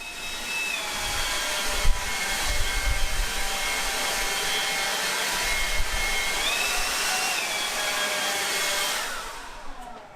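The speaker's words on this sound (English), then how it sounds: "Just taking a moment to blow out my garage, and I was initially struck by how powerful this little blower is." A DeWalt 20V cordless leaf blower blows out a garage with a steady, close whooshing rush of air and a thin motor whine, running continuously before winding down at the end.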